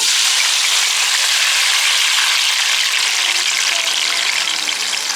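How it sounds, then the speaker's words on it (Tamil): Onions fry in a hot pan, giving a loud, continuous crackling sizzle that holds steady for several seconds with no voices over it. "இப்போ வெங்காயத்தை போட்டுக்குவோம்."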